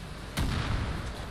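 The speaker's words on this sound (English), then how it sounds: "I need to take out the dude that's shooting the mortar strikes." A single sudden mortar-strike blast in the video game Far Cry New Dawn hits hard after a short lull, then leaves a rough, rumbling tail that fades slowly.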